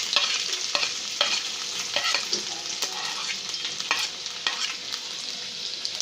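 Garlic with cumin sizzles steadily in a hot pan for methi sabji, and a spoon clicks and scrapes through it at intervals; close and fairly loud, with no talking.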